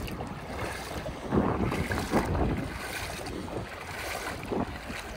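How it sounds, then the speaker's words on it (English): Waves breaking on a Florida shore beside clear blue water, a steady wash of surf with a few swelling crashes, heard at moderate distance with wind noise and no talk. "Waves breaking."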